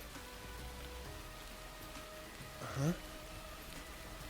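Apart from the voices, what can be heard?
rain in video game Master Detective Archives: Rain Code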